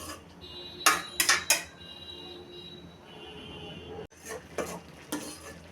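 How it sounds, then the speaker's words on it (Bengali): A spoon scrapes and clanks against a pan while a mustard-tempered tomato chutney is stirred and sautéed. Several sharp scraping strokes come in quick bursts over a low background sizzle, close by. "এখন নেড়ে আগে কতক্ষণ কষিয়ে নিব"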